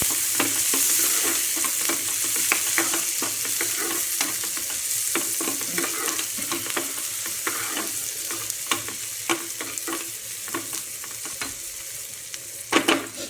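Finely chopped onion fries in hot oil for a chicken 65 dish, with a dense close sizzle that eases slightly over time and is dotted with frequent stirring clicks. No one speaks.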